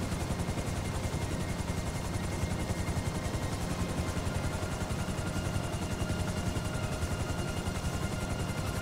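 Helicopter in Grand Theft Auto V, a steady dense rotor and engine roar filling the whole stretch at constant loudness, with rapid chopping texture and possible gunfire mixed in, no talk.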